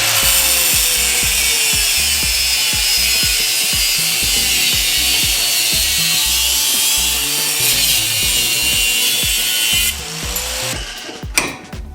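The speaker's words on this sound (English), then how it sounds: "Now I'm gonna cut off this top piece." Power saw cutting the top piece off a metal throttle kickdown cable bracket, a steady loud whining rasp with rapid rhythmic chatter running about ten seconds, then stopping with a few clunks and rattles.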